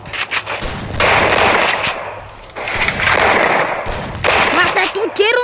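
Rapid bursts of automatic gunfire from the video game Free Fire, loud and sustained, broken by brief pauses, with a short rising electronic tone at the end.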